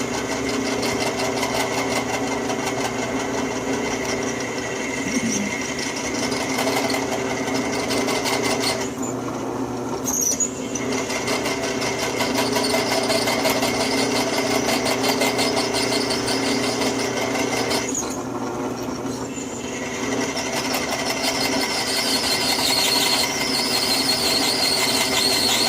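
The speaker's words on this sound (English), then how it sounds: "And this one's drilling like brass ought to drill." A drill bit cuts steadily through brass, a continuous loud whirring grind with a high squealing edge that runs on for a long stretch, dipping briefly twice as the feed eases, with no talking.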